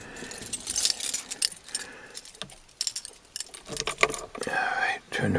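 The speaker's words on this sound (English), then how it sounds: "wait, get my keys here." Car keys for a 1991 Dodge Dakota pickup jangle and clink close by in repeated bursts of metallic rattling, with a low voice murmuring underneath.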